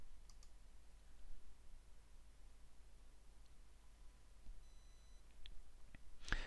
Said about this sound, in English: we're good to go ahead and click publish here too